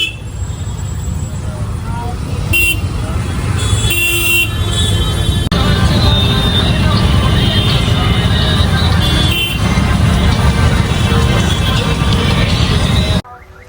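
Heavy road traffic surrounds an auto rickshaw riding toward a train station in Jaipur, India. A loud, dense engine roar runs throughout, with several horn toots cutting through near the start and middle before the sound drops away abruptly at the end.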